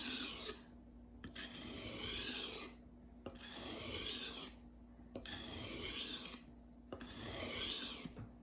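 A knife blade is pushed across a sharpening stone in four steady rasping strokes, each about a second long with brief pauses between, close and clear with no talking.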